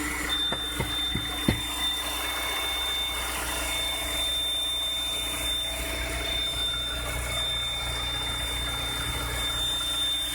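A thin, steady high whistle rises under the hood of a VW Caddy over the low hum of the running engine, with a few faint clicks early on and no voices.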